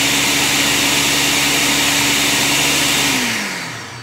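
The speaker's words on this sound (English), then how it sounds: "So I have 4 cups of milk that I'm gonna be adding to the egg and sugar. And now I'm gonna mix this again." An electric mixer whirs steadily through milk, eggs and sugar for homemade eggnog, a loud continuous motor drone that holds for about three seconds before winding down and fading out.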